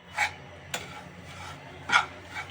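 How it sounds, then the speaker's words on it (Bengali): Fried lachha semai vermicelli being stirred in a pan over low flame, a few scattered scraping and rasping strokes with a utensil, close and quiet with gaps between them. "আস্তে আস্তে এগুলোকে নেড়েই যাইতে হবে।"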